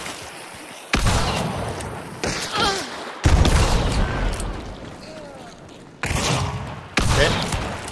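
Flechette shotgun rounds fired in the video game Hunt: Showdown, several loud bursts and booms cutting in abruptly over a noisy battlefield ambience, with excited voices talking over them.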